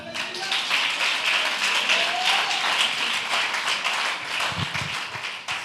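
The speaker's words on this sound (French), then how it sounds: "Acclamons les femmes." A church congregation applauding and cheering to honour the women, steady loud clapping for several seconds.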